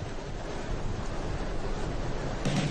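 Strong wind and surf at Essaouira bay, a constant rushing roar of waves and gusts buffeting the microphone, with a brief louder gust near the end and no voices.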